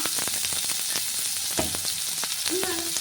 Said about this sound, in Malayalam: വെളുത്തുള്ളി ഒന്ന് ഇതായി വന്നിട്ടുണ്ട് നമുക്ക് സവാള ഇട്ട് കൊടുക്കാം